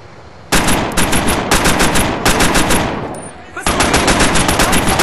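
Loud, close automatic gunfire in the Scarface: The World is Yours game: rapid bursts rattle with short breaks between them, then one long sustained burst.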